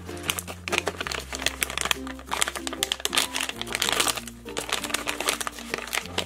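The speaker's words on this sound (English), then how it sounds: "Let's open up this Disney blind bag and see which one we get." Crinkly plastic of a Disney toy blind bag crumpling and rustling up close as it is opened, continuing steadily throughout with busy, irregular crackles, while background music plays underneath.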